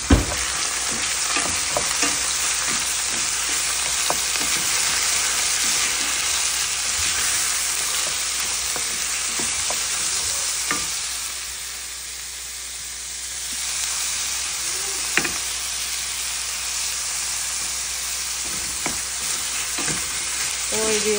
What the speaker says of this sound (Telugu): ఇలా ఆనియన్స్, గ్రీన్ చిల్లీ, క్యారెట్ అన్నీ వేసేసి ఒక 15 మినిట్స్ అలా దీన్ని ఫ్రై చేసుకోవాలి బాగా వేగే వరకు